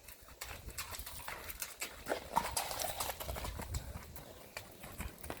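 A ridden horse walks over rocky trail ground, its hooves clip-clopping in an irregular, steady rhythm close by, with scuffs and shuffling between steps and no talk.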